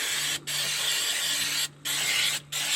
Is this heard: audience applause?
no